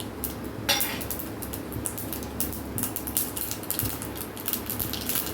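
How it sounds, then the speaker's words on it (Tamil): Mustard seeds spluttering in hot oil for tempering, a continuous crackling hiss with many quick pops and metallic clinks close by, no speech. "எண்ணெய் காய்ச்சதும் கடுகு போட்டுட்டு கடுகு நல்லா பொரியட்டும்."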